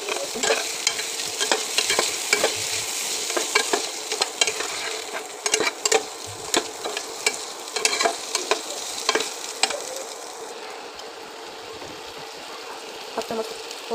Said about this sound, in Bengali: এখন কচুগুলা ভাজি করে নেব।